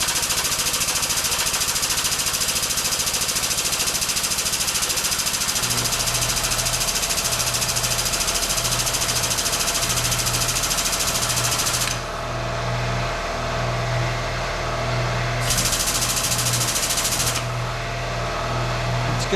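A powered hydraulic press pumps while straightening a bumper, a steady loud motor drone with a rhythmic low pulsing that starts partway through and continues close up, with no talking.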